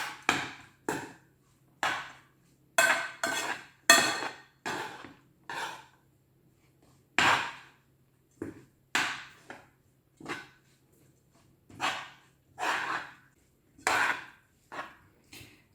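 Utensils mix kisir, a bulgur salad, in a bowl, giving a series of irregular close scraping and clinking strokes with short pauses between them, no talking.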